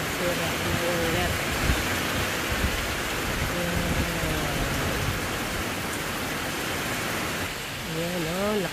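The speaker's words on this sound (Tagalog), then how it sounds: "sobrang lakas ng ulan at hangin" Heavy, steady rain pours down with a constant roar during a severe storm with strong wind in Townsville, Queensland, and voices talk over it at times.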